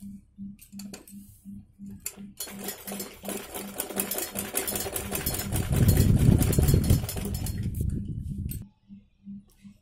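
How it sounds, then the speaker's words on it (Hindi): Sewing machine stitching a cold-shoulder sleeve, with steady rhythmic ticking at idle, then a loud, fast, continuous run of stitching that stops and falls back to slow ticking. "इसी तरीके से इसके ऊपर सिलाई लगा लेते हैं।"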